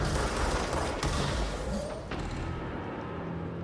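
Dense, continuous gunfire from a co-op shooter game, Control, a loud rattling barrage that eases slightly after two seconds and carries on steadily without speech.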